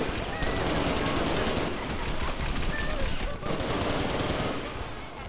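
Rapid video game gunfire bursts rattle continuously in a dense, loud mix with background game sounds and a voice talking over the action.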